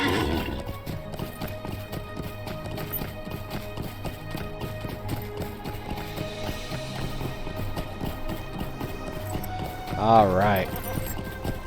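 Horse hooves clip-clop steadily beneath game music in LOTRO, the fantasy online game, set in Minas Morgul, with a brief close neigh near the end; someone speaks briefly.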